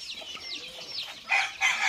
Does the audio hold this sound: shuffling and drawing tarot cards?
no